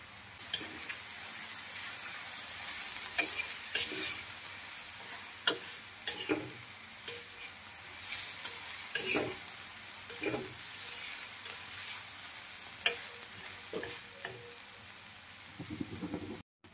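Spring onion greens with crushed peanuts and coriander fry in an iron kadhai, a soft steady sizzle broken by frequent light clicks and scrapes of stirring, fairly quiet and with no voices.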